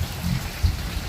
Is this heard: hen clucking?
no